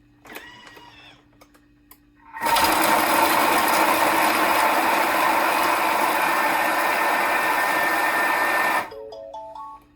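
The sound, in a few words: food processor chopping cauliflower at speed 5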